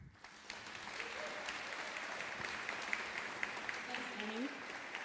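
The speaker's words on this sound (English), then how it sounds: "Can you please give a big round of applause to Zenia Chan?" Sustained applause from an audience at a Melbourne Symphony Orchestra showcase event, a steady wash of many hands clapping that swells slightly before easing off.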